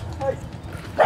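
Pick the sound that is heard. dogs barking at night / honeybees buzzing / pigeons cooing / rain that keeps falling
dogs barking at night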